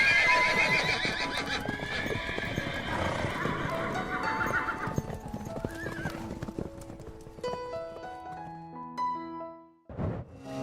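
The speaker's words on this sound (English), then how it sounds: "You are witnessing wild horses being released back into the wild." Wild horses released into open country gallop off with rapid hoofbeats and loud, repeated neighing and whinnying, busy and close at first, then thinning out with a few scattered calls near the end.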